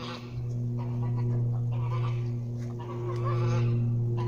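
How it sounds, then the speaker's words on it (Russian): Geese honk repeatedly, a few birds calling over one another in a busy outdoor setting, fairly close and loud. "Это гуси."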